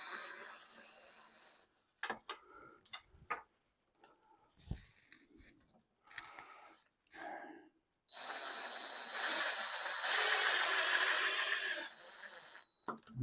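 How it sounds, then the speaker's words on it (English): A screw is driven into a back brace of a Maloof-style wooden rocking chair: scattered knocks and short handling bursts, then a sustained close whirring run of the driver for the last few seconds. "I'll run the middle screw in over here."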